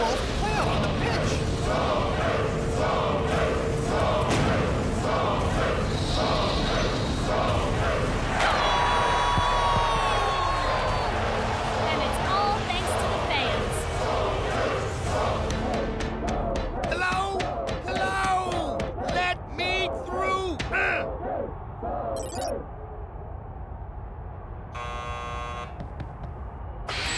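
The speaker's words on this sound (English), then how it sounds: "they're nothing compared to this home crowd" An animated home crowd cheers throughout a cartoon football match, a steady roar of voices and whoops sustained under spoken dialogue, then fading as the talking carries on.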